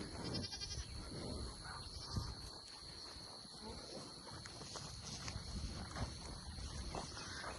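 Goats bleat now and then at a moderate distance on a farm with alpacas, over a bed of chirping insects and light outdoor noise.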